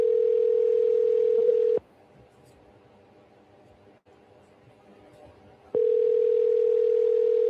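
Telephone dial tone heard after a cold call suddenly disconnects: a loud steady tone, a stretch of faint line hiss, then the same tone returning, with no talk.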